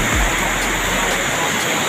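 Water rushes hard through the Sapan Hajara canal in Uttar Pradesh, a steady, loud, broadband roar with no break, heard close by.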